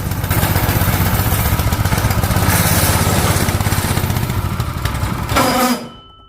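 A refurbished old go-kart engine revs hard under throttle, a loud, rough, buzzing small-engine roar that holds steady, then briefly climbs before cutting out abruptly into silence.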